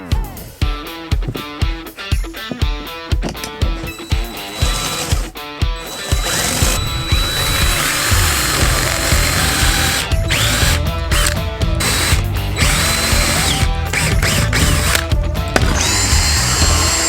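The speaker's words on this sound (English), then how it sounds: "Now I'm just gonna start drilling." A power drill whirs in short stuttering bursts, then runs steadily as it bites into material while building a teardrop camper trailer, loud and close with a grinding mechanical edge.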